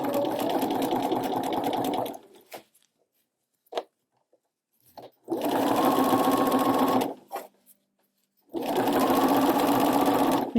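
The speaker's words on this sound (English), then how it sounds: "And start hemming." A sewing machine hems fabric with a narrow hemmer foot, running in three steady close bursts of whirring stitching separated by pauses with small clicks and handling noises.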